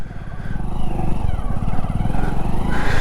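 A motorcycle engine idles steadily in neutral after a downshift, a loud, close, continuous low throb with a regular pulsing beat and no talk over it.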